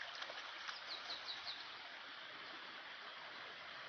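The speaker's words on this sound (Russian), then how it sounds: "Водопадик вроде и небольшой, поменьше Джурджура, но довольно-таки симпатичный" A small waterfall called Geyser at Satera gives a steady, even rush of falling water from start to finish, with a few faint bird chirps briefly audible early on.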